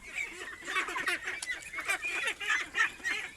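A flock of Khaki Campbell ducks on a duck farm quacks and honks continuously, many overlapping calls in a busy, noisy chorus.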